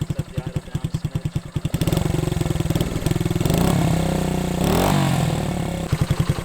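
A 1971 Honda CB100 motorcycle engine idles soon after a cold start with a fast, even putter close by, swelling into a fuller, busier run through the middle before easing back to the steady idle.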